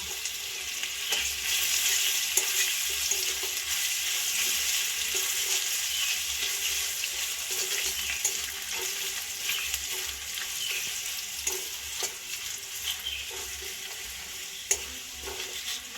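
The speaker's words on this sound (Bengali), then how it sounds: "ভালো করে ভাজা ভাজা করে নেব আগে" Steady loud sizzling of grated ginger frying in oil, with regular scraping and stirring taps from a utensil throughout.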